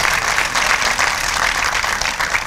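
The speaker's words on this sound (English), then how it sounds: "Clap for them" Audience applause for the 100 Men of Color 2013 honorees at a formal gala, a thick continuous wash of many hands clapping at a strong, steady level.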